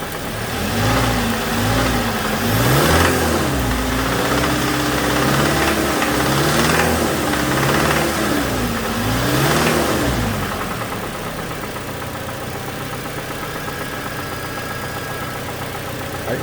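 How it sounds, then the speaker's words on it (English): A 2007 Toyota Tacoma 2.7 engine with a knock is revved up and settles back, its steady mechanical drone rising and falling in pitch with a persistent ticking knock running underneath, close and alone. "I'm going to rev the engine up and you're going to hear this noise"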